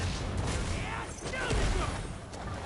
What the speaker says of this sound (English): Detonate the bomb.